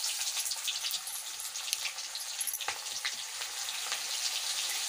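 Onions and cumin seeds sizzle in hot oil in a kadai, a steady bright crackling hiss with scattered pops, close and fairly quiet with no talking.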